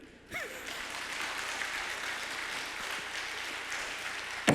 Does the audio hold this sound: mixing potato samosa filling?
no